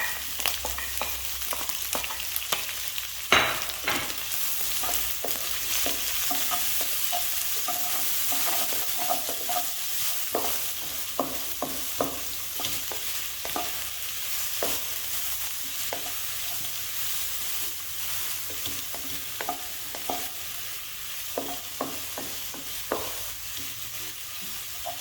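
Chopped onion frying with chicken in a hot pan, a steady loud sizzle with frequent clicks and scrapes of stirring running throughout, close up and with no talk.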